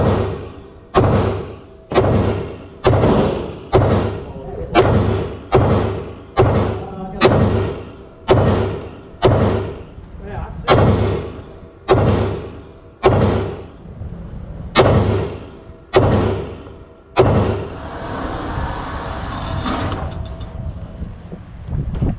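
A handgun fitted with a Holosun HS507C-V2 red dot fires at an outdoor range, about fifteen loud, booming shots in a steady rhythm roughly a second apart, each with a decaying tail, followed by windy microphone noise.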